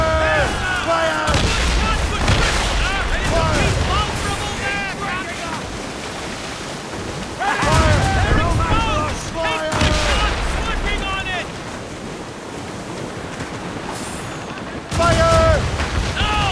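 Ship cannons fire in the Assassin's Creed Rogue video game during a naval battle at sea, with heavy booming volleys over constant wind and surf, while a voice shouts commands between the blasts.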